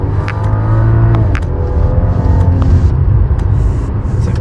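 A 2015 BMW 535i with the M package and a deleted muffler, its engine droning steadily and rumbling loudly as it speeds up from the driver's seat.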